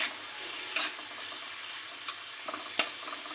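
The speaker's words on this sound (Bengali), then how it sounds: "এবার মাছটা সামান্য বাড়িয়ে নাড়তে থাকতে হবে" Fish seasoned with turmeric and salt fries quietly in a pan for tomato fish, a soft steady sizzle broken by a few sharp scraping clicks from stirring.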